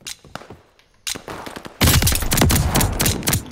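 Gunfire in Call of Duty: Vanguard: loud, rapid bursts of automatic shots, sparse and scattered at first, then a dense, sustained barrage of overlapping fire.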